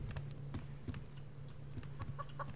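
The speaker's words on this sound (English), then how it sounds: "And Mr. Chicken, oh, he just hit level 10" Chickens cluck faintly in the video game Subsistence, a few short soft clucks scattered over a steady low generator-like hum.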